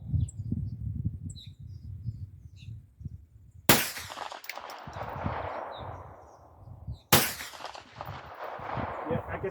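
Two sharp, loud gunshots from a 9mm Palmetto PX-9 AR-9 carbine aimed at a target 200 yards away, each cracking out and then rolling off in a long echoing decay outdoors, with birds chirping and low talk between shots.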